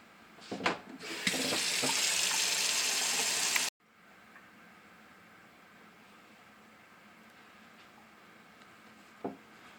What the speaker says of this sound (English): I'm just going to give it a quick rinse and let it dry on this towel